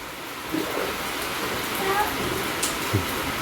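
Rain falling outside: a steady, even wash of rainfall throughout, close and moderately loud, with a few faint knocks over it.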